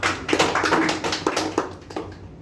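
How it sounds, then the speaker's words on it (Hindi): Applause at a gathering in honour of parents, a close burst of uneven claps that thins out and fades toward the end. "और एक मर्तबा अपने माता पिता के लिए ज़रूर तालियां"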